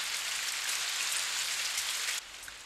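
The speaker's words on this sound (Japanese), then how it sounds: "雨になりました。" Steady rain falls on an evening in Kobe, a dense, even hiss of drops on surfaces that continues alone with no voices, briefly easing near the end.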